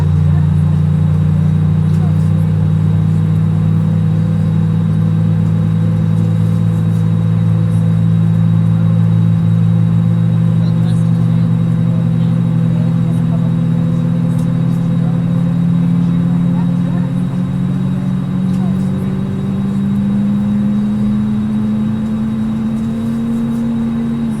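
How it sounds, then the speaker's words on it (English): Steady low drone of an Airbus A320neo jet engine in Microsoft Flight Simulator 2020, with a whine that slowly rises in pitch as it spools up, continuous and loud throughout. "There's engine number 2 now coming to life."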